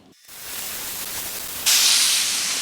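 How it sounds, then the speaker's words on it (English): Bacon pieces sizzle in a cast iron skillet with a loud, steady, close hiss that swells and brightens partway through and then holds. "So all the pieces of bacon, just gonna go on here and get them not too crispy"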